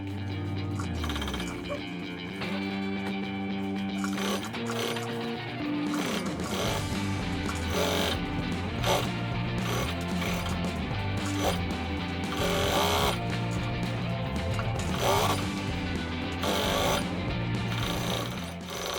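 A sewing machine stitches through the thick, nearly one-centimetre corners of a DIY backpack, running in close mechanical bursts with changing speed and brief pauses, loud and alone.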